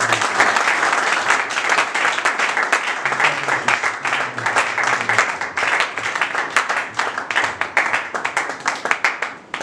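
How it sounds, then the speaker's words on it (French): A church congregation applauding during a worship service: dense, sustained clapping from many hands keeps up at an even, loud level for about ten seconds, with a faint crowd murmur beneath. "acclamons Jésus"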